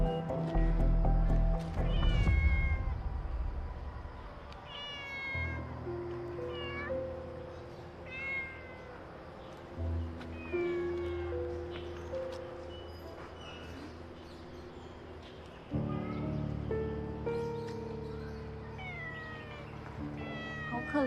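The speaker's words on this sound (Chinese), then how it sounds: "好可怜的野猫啊！" A cat that looks stray but has recently trimmed claws meows repeatedly. The cries are rising and falling and fairly soft, heard alone over a low background rumble.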